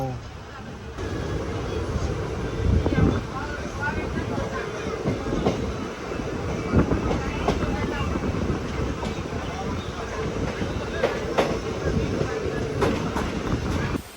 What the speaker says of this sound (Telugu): విరుద్ నగర్ జంక్షన్ నుంచి అయితే మన ట్రైన్ స్టార్ట్ అయిపోయింది.